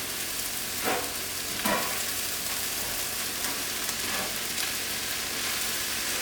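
Seasoned chicken and vegetable eggroll filling being stirred in a hot pan, a constant dense sizzle with a few soft scraping stirs near the start, no talking.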